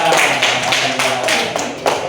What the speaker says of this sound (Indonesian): Tepuk tangan kembali untuk Zizi yang sudah banyak mengerjakan